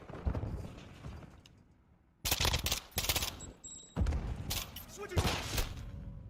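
Rifle fire in a Call of Duty deathmatch comes in rapid automatic bursts, several loud close volleys separated by short pauses, with a voice talking between them.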